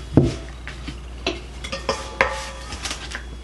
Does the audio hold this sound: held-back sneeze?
no